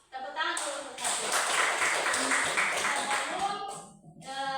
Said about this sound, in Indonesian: Tepuk tangan dulu untuk Kak